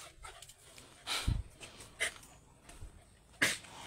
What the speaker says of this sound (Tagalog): Ayun yung mga aso ko.